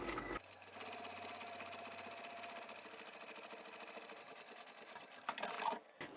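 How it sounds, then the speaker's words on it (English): A sewing machine back stitches and then runs steadily along a seam of a very large trapezoid-shaped utility bag, its motor humming with a rapid needle rhythm that continues almost unbroken, loud and close, with no talk. "Back stitch again here and sew to the end."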